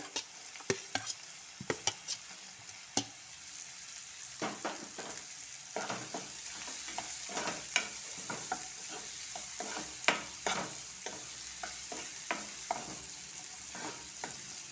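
Onions fry in a pan for Maharashtrian eggplant bharit, a faint steady sizzle under frequent sharp scrapes and taps of a spatula stirring, heard up close and without talk.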